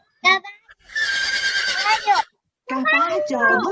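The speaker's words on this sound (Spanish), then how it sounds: "Caballo." A horse gives one long, high whinny, preceded by a short vocal burst and followed by a person talking.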